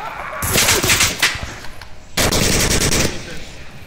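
Automatic gunfire in the VR shooter Onward, hostage mode: two loud, close bursts of rapid shots separated by a short gap, with faint voices beneath.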